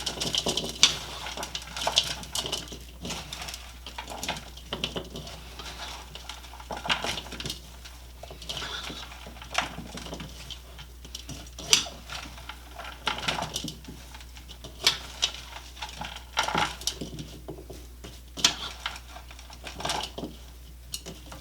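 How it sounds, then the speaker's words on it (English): Broccoli and fruit pieces are tossed together in a bowl with a utensil, giving repeated soft clinks and scraping taps in an irregular rhythm, close and fairly quiet, with no talking. "Now we will mix this all together."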